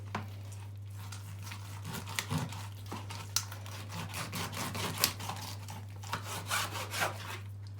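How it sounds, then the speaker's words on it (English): A knife saws and rubs through a raw chicken carcass for stock, a steady close-up scraping with sharp cracking bursts as the bones give, over a constant low hum, with no talk. "I'm just going to cut it with a knife."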